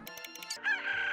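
Chickens in a coop in the video game Slime Rancher, a brief burst of clucks followed by a rising crow-like call, synthetic and clear.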